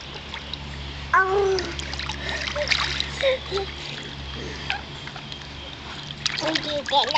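A baby kicking and splashing in a swimming pool, with light irregular splashes and trickles of water close by while adults talk and coo over them.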